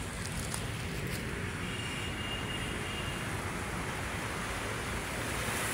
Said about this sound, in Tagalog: Ayan yung alon, oh. Mahina pa lang naman yung alon